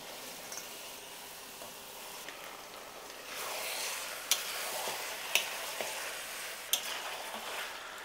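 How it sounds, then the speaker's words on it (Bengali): Chicken pieces frying in an oily onion and spice masala for chicken curry, giving a soft, low sizzle with a few sharp spatula clicks against the pan, fairly quiet and with no talk. "এবার আমি মশলার মধ্যে চিকেনগুলো দিয়ে দেব।"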